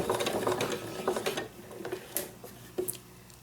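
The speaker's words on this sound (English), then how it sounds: "So I am stitching" A sewing machine stitches around the edge of a crumb-pieced quilt block in short mechanical bursts, close and clear, with pauses between runs and no talking.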